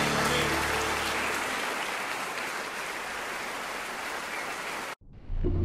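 Applause during a Korean church Sunday worship service, a dense, steady wash of many hands clapping for about five seconds before cutting off abruptly.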